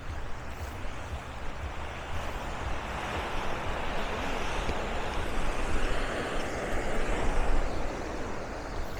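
Atlantic Ocean surf washing onto a black sand beach with a few rocks on Madeira, a steady broadband wash with mild wind rumble that swells slightly toward the end, with no voices.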